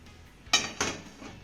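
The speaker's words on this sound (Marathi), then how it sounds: "आता यामध्ये ना हे ताट ठेवून घेते" A metal plate set down into a kadhai of hot water: two quick bright metallic clanks a fraction of a second apart, close and sharp, with a faint ringing tail.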